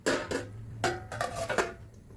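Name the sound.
removing pot lid and stirring mushrooms in pan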